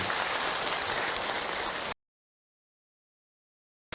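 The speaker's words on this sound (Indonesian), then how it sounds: "Tepuk tangan untuk yang bertanya" Audience applause at an Islamic religious talk, a dense wash of clapping that is loud and steady for about two seconds, then cuts abruptly to silence.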